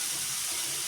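Grated carrots with dry fruits frying in ghee, a brief, soft, even hiss of sizzling with no other sound.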